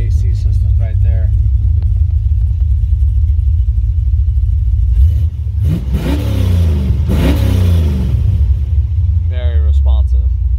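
A big-block V8 in a 1969 Camaro with a Tremec TKO five-speed runs at a loud, steady low rumble and revs up sharply twice near the middle, with brief talk heard over the idle at the start and end.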